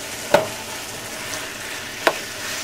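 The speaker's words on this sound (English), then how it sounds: "we're going to start mixing this up to incorporate the sofrito" Sofrito and meat being stirred together in a frying pan for a chicken empanada filling, with a soft steady sizzle and two distinct scraping clicks of the utensil against the pan.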